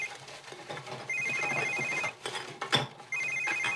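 A telephone rings in the life-simulation game The Sims 3 with repeated electronic trills in bursts, moderately loud over faint game background sounds.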